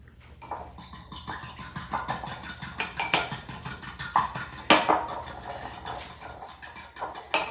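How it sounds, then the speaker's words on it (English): Eggs are beaten in a bowl for hamantaschen dough, a fast, steady clatter of utensil against bowl that ticks rhythmically and close up throughout. "going to break the eggs and mix them, beat them a little bit"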